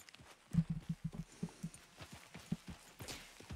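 Horse hooves in Red Dead Redemption 2 beat out a quick run of soft, rhythmic thuds, close and fairly loud, then thin out into a few scattered footfalls.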